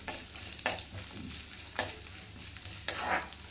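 Curry leaves being stirred in hot oil in a pan near the end of frying for daddojanam, with a steady sizzle and a few sharp scraping stirs at irregular intervals.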